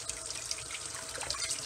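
Warm tap water runs steadily from a faucet into a sink during handwashing, a continuous close splashing hiss with no talking.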